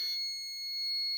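A REM pod ghost hunting device sounds a high, steady electronic alarm tone that holds for just over a second, close by and shrill, with no talking.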